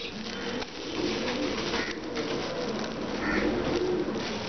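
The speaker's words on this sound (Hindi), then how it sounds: "ये सारे कबूतर खुश हो गए चीज़ों नूं खांदे आ" Soft cooing of pigeons mingles with a steady background murmur, fairly faint and continuous.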